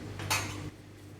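A single short scrape and clink of a knife cutting cookie dough against a board or tray, close and quiet, ending abruptly.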